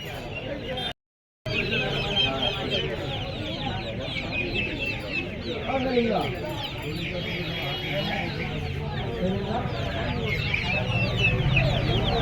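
A crowd of chickens at a poultry market in Uluberia clucks steadily and densely, close by and loud, with voices mixed in among the birds.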